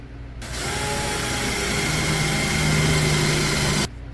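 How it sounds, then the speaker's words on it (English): A drill bores out a spot weld on the cab of an old Ford Dentside truck, a steady whining grind running continuously for about three seconds, close and fairly loud, with no talk. "So I'm gonna drill it first, and then we're gonna hit it with the spot welding drill bit"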